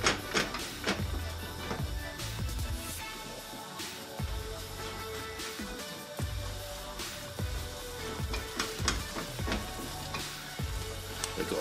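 Scrambled-style egg omelette with butter is stirred in a sizzling pan: a continuous close frying hiss broken by repeated clinks and scrapes of the utensil against the pan.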